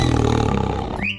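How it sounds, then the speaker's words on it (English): A tiger gives a single deep, loud roar that rumbles close for about a second, then cuts off. "tiger,"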